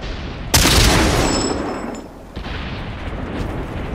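Gunfire strikes a tank in the World of Tanks video game: a sudden loud blast opens into a roaring burst that fades over a second or so, then a second, softer impact follows.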